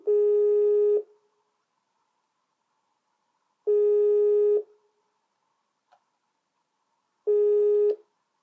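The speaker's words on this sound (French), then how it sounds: "je l'appelle tout de suite." A telephone call tone heard through the line: three long steady beeps, each about a second, separated by long silent gaps, loud and clean with no talk.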